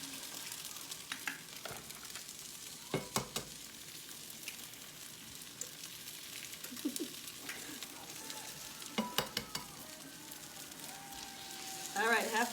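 Eggs land in sautéed onion in a pan, raising a soft, low sizzle with scattered taps and clicks of shell and utensil against the pan, quiet and close throughout.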